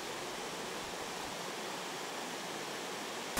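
Rushing stream water after heavy rain at a village site in Harye 2-ri, Namwon-eup, Jeju, a steady dense hiss of flowing and falling water heard alone and unbroken.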